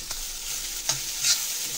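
Spice masala for stuffed bitter gourd frying in a pan, a bright steady hiss with a couple of brief scrapes as it is stirred, close and alone, with no voices.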